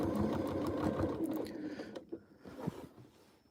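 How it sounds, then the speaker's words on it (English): A sewing machine runs steadily during free motion quilting, stitching in the ditch along a quilt block seam, its close mechanical whir continuous before easing into slower, uneven bursts near the end. "Now notice that I am stitching in the ditch here, or close to the ditch anyway"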